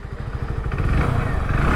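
A Hero Passion Plus 100cc motorcycle with idle start-stop starts up, its engine settling into a steady low, throbbing idle that grows slightly louder and runs continuously, close to the listener.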